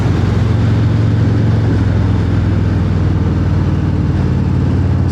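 Harley-Davidson Breakout 117 motorcycle under twisted throttle, a loud, steady, deep engine rumble with strong low-end throb held without a break.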